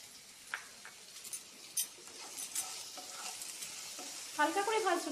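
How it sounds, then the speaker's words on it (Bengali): A pan on the stove sizzles softly as ingredients for chicken egg drop soup are lightly fried, with scattered utensil clinks and stirring scrapes. The cooking stays quiet and close throughout. "হালকা করে ভাজছো"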